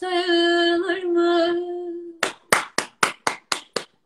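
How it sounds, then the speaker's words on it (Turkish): In a television studio, a sustained sung note fades out and about eight sharp, evenly spaced hand claps follow, crisp and close. "Zaten buradan alkışlar geliyor."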